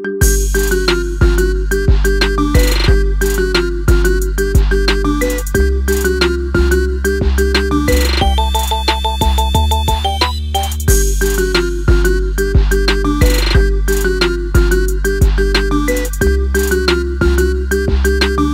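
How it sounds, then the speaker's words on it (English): A bright, looping marimba remix ringtone plays on mallet tones with a rhythmic bass pattern, briefly shifting to a different phrase before repeating. "Get this cool ringtone for your phone now."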